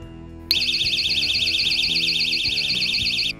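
A door-handle touch alarm on a metal door with a wooden insert bursts into a loud, warbling electronic siren that cycles rapidly for about three seconds before cutting off, over a faint background melody.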